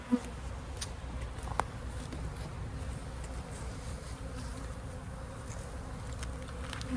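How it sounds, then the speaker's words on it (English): A low, steady buzz of many honeybees fills the air around an opened hive during a colony check, even and moderately faint, with occasional louder bees passing close. "And now two frames of bees."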